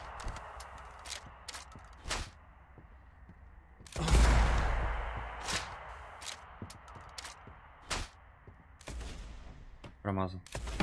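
Gunfire in the video game Blood West rings out as sharp, sparse shots scattered across the clip, with one louder burst midway, over a quiet background.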